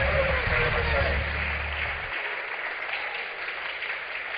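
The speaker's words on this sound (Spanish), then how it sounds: "Den un aplauso fuerte al Señor." A congregation applauds during a Spanish-language prophecy sermon, a steady clapping wash over a low musical hum that cuts out midway, leaving the applause to carry on alone at moderate volume.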